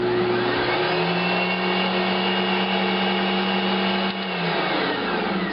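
An Ankarsrum Assistent stand mixer runs with its bowl spinning, a loud, steady motor whir with a droning hum that dips briefly near the end and then carries on alone.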